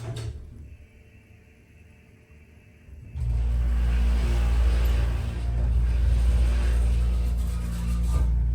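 A hydraulic elevator motor at a JCPenney in Meyerland Plaza, Houston, kicks on with a sudden jump into a loud, steady low rumble and drone that continues after a quieter opening stretch.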